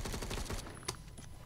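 Gunfire in the video game Phantom Forces: a rapid burst of sharp shots followed by a couple of isolated cracks, loud and close.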